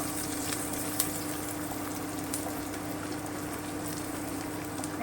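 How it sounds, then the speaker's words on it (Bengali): Chopped onion, garlic, ginger and green chilli fry in a pan for a chicken stew, a dense, even crackling sizzle that runs steadily throughout, close and fairly loud with no voices. "আমি রসুন আদা আর কাঁচা লঙ্কা কুচিটা দিয়ে দিচ্ছি দিয়ে আমি আর একটুখানি ভেজে নেব"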